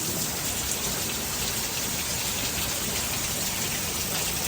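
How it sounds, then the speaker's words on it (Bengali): Rain falls on a Monday in Canada as a steady, even hiss of drops hitting surfaces, unbroken and moderately loud with no other sounds. "বৃষ্টিটা অনেকটা কমে গেছে, না হলে একটু জোরে বৃষ্টি হচ্ছে"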